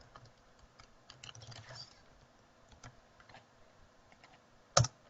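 Quiet computer keyboard typing while writing Java code: light, irregular key taps in short bursts, with one sharper, louder click near the end.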